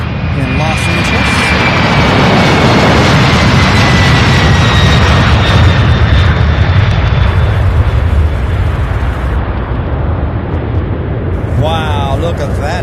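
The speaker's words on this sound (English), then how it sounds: "Wow, look at that takeoff." A Boeing 767 jet airliner takes off from Louisville International Airport, bound for Los Angeles. Its loud, steady engine roar fills the air with a rising whine, and a voice speaks briefly near the end.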